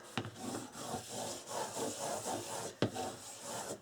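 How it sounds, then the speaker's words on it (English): Paper is burnished down by hand while making an album, a close series of soft rhythmic rubbing strokes broken by two sharp taps, with no talking. "And line this one up as well and burnish down."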